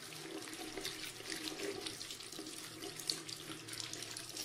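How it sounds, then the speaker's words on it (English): Tap water running steadily into a sink while hands are washed, a soft continuous splashing stream heard up close with no talking. "And now we're going to wash it with water."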